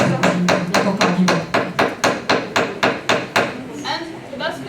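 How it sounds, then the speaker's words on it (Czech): A banana frozen solid in liquid nitrogen serves as a hammer, striking about fourteen sharp, hard knocks in a steady rhythm, loud and close, with a brief pause near the end. "we put our banana in liquid nitrogen, we can use it as a hammer"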